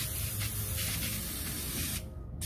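Parts cleaner sprays from an aerosol can during a differential fluid change on a 2015 Corvette, a steady close hiss for about two seconds that cuts off abruptly, followed by a quieter tail.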